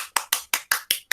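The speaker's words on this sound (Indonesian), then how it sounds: "Ya, tepuk tangan dulu dong." Six sharp hand claps in a steady rhythm during an online teaching session, close and fairly loud, with brief silences between each.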